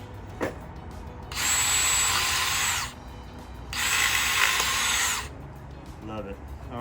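A power drill pre-drills a hole in wood for a door extension project, two close, loud whirring runs of about one and a half seconds each separated by a short pause, with brief talk around them.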